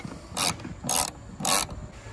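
Ratchet tightening a pod light bracket bolt on a Ford F-150, three short bursts of close, crisp clicking separated by brief pauses, with no talking.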